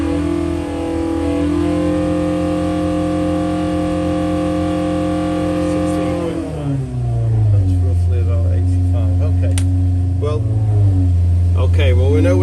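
A Hillman Imp 1200cc stealth engine with a standard height block runs on a dyno, holding a steady high-revving drone before dropping sharply to a lower, wavering rumble.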